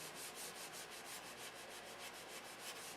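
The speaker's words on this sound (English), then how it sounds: "We're going to be sanding between each coat" Sanding a wooden canopy between paint coats: steady rhythmic back-and-forth rasping strokes, close and continuous, with no talking.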